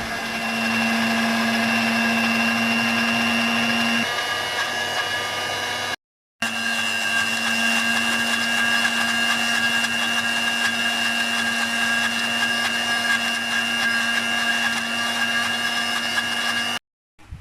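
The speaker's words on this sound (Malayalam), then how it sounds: "മിക്സിയിൽ അരച്ചെടുക്കാം." Mixer grinder running steadily while blending mango and carrot, a loud continuous motor whine with a strong steady hum, briefly stopping once and then restarting and running on.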